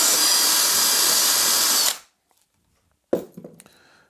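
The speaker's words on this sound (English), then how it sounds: "All we do is drill a hole into the plasterboard" A power drill bores a hole into plasterboard, a loud steady whine lasting about two seconds before stopping, followed by a short burst of handling and scraping noises.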